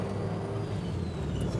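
A Honda D-series car with a D16 engine and an upgraded gearbox accelerates in first gear, giving a steady low engine drone with road and cabin rumble throughout.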